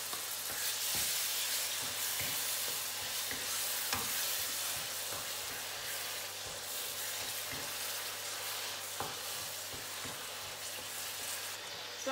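Garlic sizzles steadily in a frying pan for seafood pasta, a close, continuous crackling hiss with occasional soft stirring scrapes and no talking.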